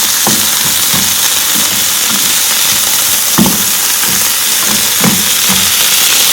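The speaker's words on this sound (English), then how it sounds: "You saute it for 1 more minute" Sliced ripe plantain sautéing with salt in a hot pan, steady loud sizzle and hiss with occasional soft stirring scrapes and taps.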